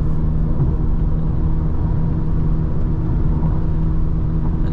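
A Volkswagen Jetta 1.4T Stage 2 cruises on the highway at about 100 km/h and picks up speed, a steady, loud low engine and road rumble filling the cabin throughout with no break.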